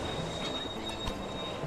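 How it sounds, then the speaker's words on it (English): A freight train in the Railway Empire game rolls into a station and slows to a stop, a steady rumble with faint wheel squeal and soft clatter, alone and moderately distant with no voices. "Our first train's just arriving in."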